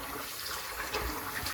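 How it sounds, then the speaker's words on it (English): Rice being washed in water, a steady close splashing and sloshing rush with no pauses, heard alone. "We are now going to wash the rice 7 times."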